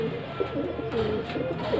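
Pigeons coo in soft, repeated throaty bursts at close range, a low murmuring rhythm continuing over steady background noise.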